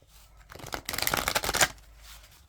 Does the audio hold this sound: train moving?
no